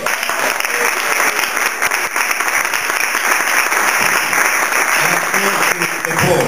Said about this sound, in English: The biggest round of applause to the participants.